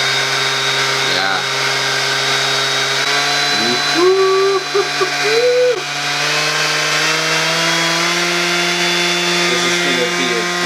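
Dewalt brushless battery-powered sander or oscillating multitool running at a steady high whine for several seconds, pitch shifting as the speed is turned up, with brief speech over it.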